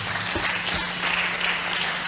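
Applause from an audience at a church workers' meeting, a steady dense wash of clapping filling the whole stretch at a constant level, with a low hum underneath.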